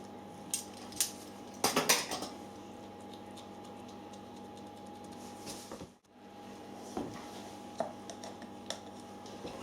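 Knife and fork cutting up corned beef pasties on a plate, with sparse metallic clinks and scrapes clustered early on, then a few quiet taps over a low background hum.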